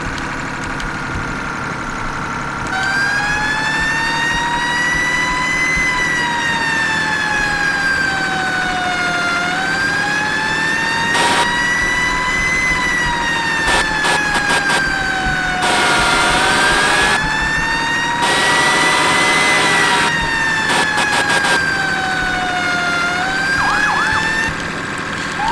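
A fire truck siren in Farming Simulator 17 wails up and down steadily over a continuous idling engine rumble, loud and close, with a few sharp bursts of horn-like blasts partway through.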